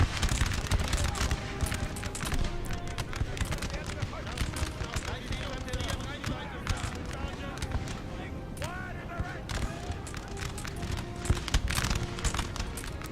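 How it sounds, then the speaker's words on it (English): Musket volleys crackle in a Napoleon: Total War multiplayer battle on Prussian hills, dense bursts of massed gunfire rolling continuously at steady loudness while a voice talks over the fighting. "I got my musketeers firing at them as well."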